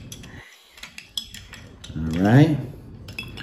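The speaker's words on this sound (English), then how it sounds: "Now, I'm gonna stir, stir, stir." A bar spoon clinks and scrapes against ice and glass while stirring an Old Fashioned made with Redemption Rum Cask, with small rapid taps close by and a brief spoken remark over them.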